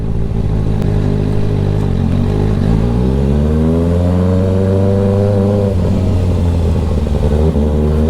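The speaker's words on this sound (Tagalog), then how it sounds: "Naka-ready na yung motor ni Jean" A motorcycle engine idles loudly up close in a residential area, then revs up with rising pitch and settles back into a steady rumble.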